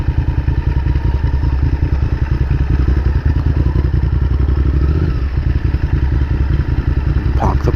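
Motorcycle engine idling and puttering at low speed as the rider manoeuvres to park on a quiet street in Weston-super-Mare, a steady close rumble with a few clunks and scrapes near the end.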